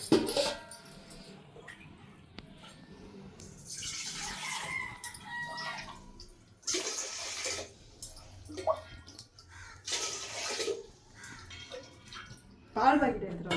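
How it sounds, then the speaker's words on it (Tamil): Water is poured into a pot for sweet sakkarai pongal during a home Pongal festival cooking session, in several splashing bursts, while chickens cluck, a rooster crows nearby and a person talks. "இப்போ தண்ணி ஊற்றிக்கலாம்."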